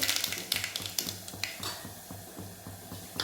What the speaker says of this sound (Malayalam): കടുകിട്ട് കടു പൊട്ടുന്നത്